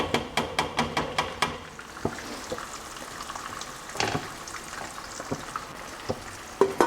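Fish fries in a pan while cooking a fish biriyani, a soft steady sizzle with occasional crackles and pops, preceded by a quick series of sharp taps at the start; quiet and close, no talk.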